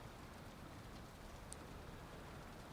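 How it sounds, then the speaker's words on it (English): Steady, soft rain falling in the video game Valheim during daytime, a continuous even hiss with no distinct drops standing out, fairly quiet and unbroken. "It is daytime, but I slept my way into some rain."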